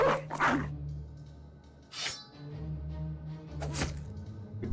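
A war dog in Battle Brothers barks in a few short, sharp bursts spread apart over a low steady hum, with thuds between them and no talking.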